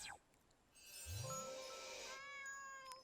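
A cat in an RPG Maker video game lets out a single drawn-out meow with a rising then falling pitch, clean and game-like, over soft background music with a faint tinkle near the end.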